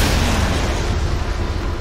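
Warship cannon fire and explosions boom in the naval combat game Modern Warships, a loud, dense, continuous rumble of blasts up close.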